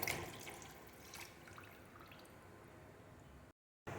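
Tamarind water poured into simmering crab rasam with sautéed onion and tomato in a pot, a steady close liquid splash and trickle for about three and a half seconds, then a brief silence and the sound resuming.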